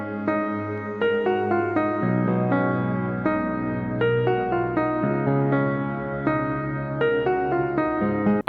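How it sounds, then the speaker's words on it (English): A looping piano melody carries a music track, with clear plucked notes and chords struck in a steady, unhurried rhythm and few other rhythmic elements. It plays alone, full and close. "So the main idea this week is this piano loop melody that I came up with."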